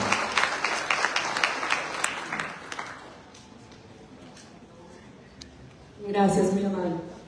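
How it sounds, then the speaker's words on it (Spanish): Audience applause for a panel moderator at an expert panel event, dense clapping for about three seconds that fades into quiet room noise, followed by a voice speaking near the end. "Nuevamente un fuerte aplauso"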